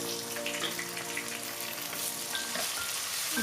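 Chopped tomato dropped into onions frying to light golden brown in a pan while cooking Pakistani-style aloo bhujia, giving a steady, moderately quiet sizzle and crackle with faint stirring, no voices.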